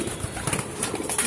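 Racing pigeons in a small home loft give off soft, overlapping coos and low murmurs, a steady close-by cooing with faint rustling behind it.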